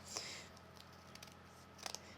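A couple of quick scissor snips cut through paper, separated by a pause, close and fairly quiet.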